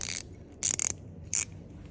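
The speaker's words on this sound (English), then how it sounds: "you can just use your ratchet spanner to tighten it and undo it" A ratchet spanner works a bolt in a tight space on an Audi A5 3.0 TDI engine, giving three quick bursts of crisp ratcheting clicks, close and clear, with short quiet gaps between them.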